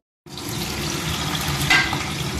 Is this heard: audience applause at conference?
no